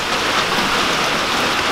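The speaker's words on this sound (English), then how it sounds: "And now the rain is going to drown us out," Heavy rain falling outdoors, a dense, even hiss of drops hammering surfaces, loud and continuous with no letup, no voices over it.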